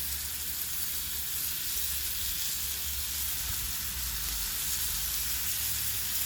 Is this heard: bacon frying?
yes